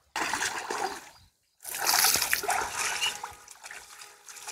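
A man plunging into very cold water outdoors, making two bursts of loud, close splashing and sloshing separated by a brief silence.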